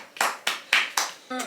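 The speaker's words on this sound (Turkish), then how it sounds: "Alkış." Hands clap four times in a slow, even rhythm, close and crisp, in a home setting with a baby, followed by a brief tonal sound at the end.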